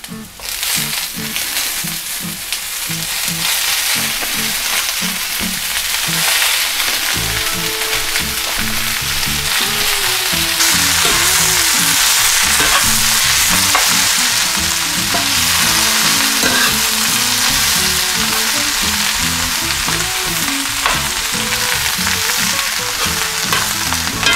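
Shredded cabbage frying over medium heat in a pan for Southern fried cabbage, giving a loud, steady sizzle with the scrape and clatter of stirring throughout.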